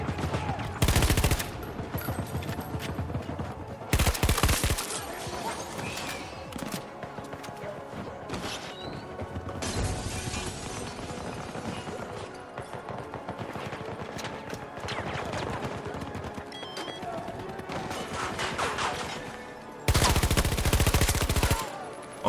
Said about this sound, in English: This gun behaves in a weird way.